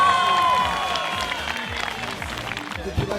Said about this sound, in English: Everybody give a round of applause to our Wookiees!